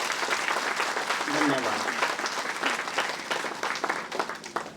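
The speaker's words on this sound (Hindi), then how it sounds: "अपने दोनों हाथों के तालियों की गड़गड़ाहट से एक दूसरे को धन्यवाद दें" Audience applause at the blessing and inauguration of a church priests' residence in Ranchi, a steady wash of hand clapping lasting throughout, with a brief spoken word near the start.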